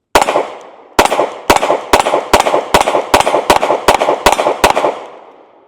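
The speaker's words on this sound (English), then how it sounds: "Let's go ahead and take a few more shots." Smith & Wesson Bodyguard 2.0 pistol fired in a string of about ten loud, close shots at a steady, rapid pace, each crack followed by a short echoing tail, with no talk.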